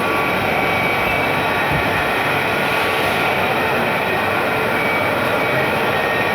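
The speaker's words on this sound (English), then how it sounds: "top quality and most modern CNC machines for milling, like this Furco and Morris Seiki" Furco and Mori Seiki CNC milling machines run in a factory, giving a loud, steady broadband roar with a constant high whine and no pauses throughout.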